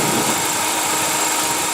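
A 2015 Ford Fiesta's 1.6-liter inline four-cylinder engine idles, a steady, even hum with a light mechanical whir that stays constant throughout, close by and with no voices.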